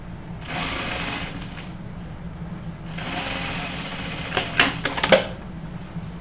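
A sewing machine runs a narrow seam on jeans in two sustained bursts, then gives a few quick, sharper stitching spurts near the end, close and moderately loud.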